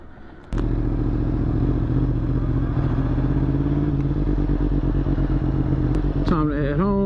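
Yamaha R1 1000cc sport motorcycle riding, a loud steady engine drone that starts abruptly, holds at a constant pitch, then swells briefly as it revs near the end, with wind noise over it.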